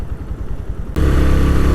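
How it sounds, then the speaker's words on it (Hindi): A motorcycle engine strains after a steep climb on gravel mountain roads, starting as a muffled low rumble and then abruptly becoming a loud, close, steady roar that continues to the end. "तो बाइक का बड़ा ज़ोर लगा है।"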